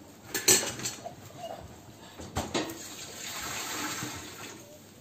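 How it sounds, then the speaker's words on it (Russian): Water runs from a kitchen tap over a spoon being rinsed, with a few splashy bursts and a light clink of metal, steady and close, no talking. "И ложку сполосну заодно."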